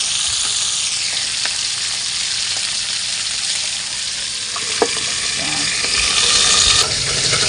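Close, steady sizzling and crackling of milkfish frying in a pan, continuous throughout with a few small clinks.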